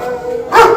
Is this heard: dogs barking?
yes